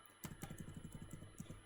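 Typing on a computer keyboard produces quick, soft, evenly spaced key clicks in a short close burst, with a couple of slightly louder strokes.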